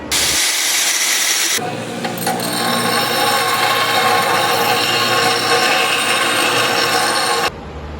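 A steel wire brush scrubbing steel before welding, giving a loud, continuous, harsh rasping hiss up close that runs steadily for several seconds, with no talking.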